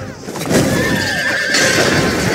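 A horse gives a loud, close whinny with wavering, descending tones over a rough background and faint hoof-like movement.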